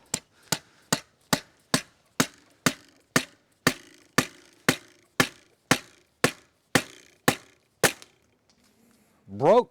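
Steady, evenly spaced metallic hammer blows drive a Microtech Combat Troodon knife blade in like a nail outdoors in the cold, about fifteen sharp strikes, then a pause and a brief rising scrape at the end.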